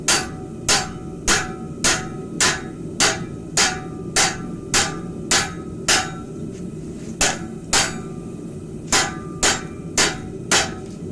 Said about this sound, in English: I'm just going to continue working this down, rounding side of my rounding hammer.